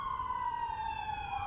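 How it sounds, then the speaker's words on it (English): An emergency vehicle siren wails in one long, steady, slowly falling tone, loud and close, over low rumbling traffic during a wildfire evacuation. "Sirens wailed as residents evacuated on foot and by car."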